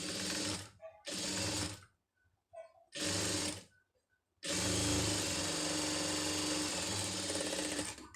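Sewing machine stitching blouse pieces together in short bursts, three brief runs with pauses and small clicks between, then a longer continuous loud whirring run.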